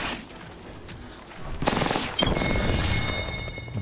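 Video game weapon gunfire: quiet at first, then a loud burst of rapid automatic shots kicks in and keeps rattling close by until the end.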